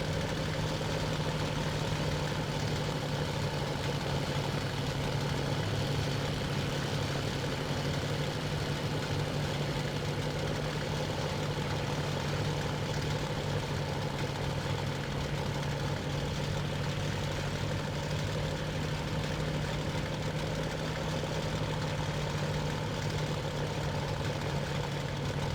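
A Bf-109F-2 fighter's engine idles in the 2001 flight sim IL-2 Sturmovik, a steady, unbroken low mechanical drone with a constant hum and no voices over it.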